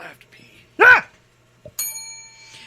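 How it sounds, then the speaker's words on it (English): A service bell is struck once, giving a bright ringing tone with steady sustained overtones that fade slowly, preceded by a short loud shout and quieter talk. "Yes, hit the bell."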